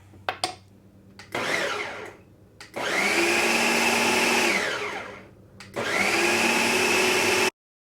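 A kitchen blender whirs through ham salad with celery in loud bursts, starting with a few short pulses and then running in two long stretches with a short pause between them before it stops abruptly.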